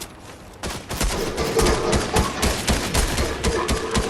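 Rapid bursts of gunfire from the Fortnite video game crackle close and loud in overlapping volleys, starting after a short quieter lead-in and continuing to the end.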